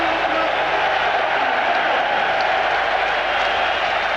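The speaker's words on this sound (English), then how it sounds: "Chelsea being applauded all around the ground because their supporters are all around the ground" Stadium crowd at the 1998 Cup Winners' Cup Final between Chelsea and Stuttgart applauding Chelsea, a steady, loud wash of clapping and cheering from all around the ground with no breaks.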